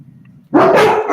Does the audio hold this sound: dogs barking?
yes